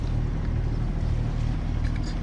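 A sailboat's inboard engine running at moderate revs out on the water, a steady low throbbing drone with some wind noise and no voices.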